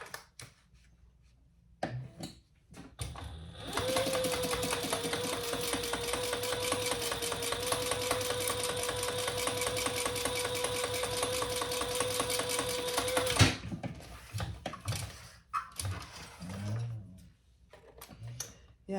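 A domestic sewing machine top stitches a fabric crossbody bag, running steadily for about ten seconds at close range with a continuous whirring hum, preceded and followed by brief handling noises and faint talk.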